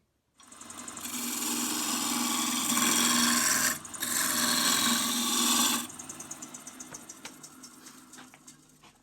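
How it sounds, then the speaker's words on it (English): A wood lathe spins up to 1500 rpm while turning a square wooden block; a steady, loud whirring machine drone runs for several seconds with a short break, then fades into lighter tapping and scraping. "I'll turn the lathe up to 1500."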